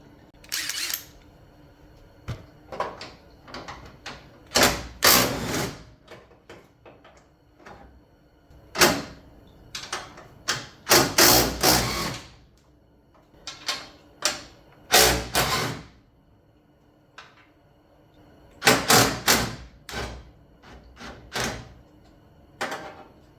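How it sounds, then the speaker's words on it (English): Old radiator being unbolted and pulled out of a classic car: a series of irregular close metallic clunks, knocks and thumps in clusters, with quieter rattles between. "One old radiator coming out."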